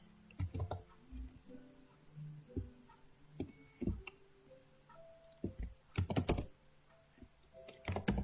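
Typing on a computer keyboard at a Linux shell comes as irregular bursts of close, crisp key clicks with short pauses between runs, quiet and alone without talk.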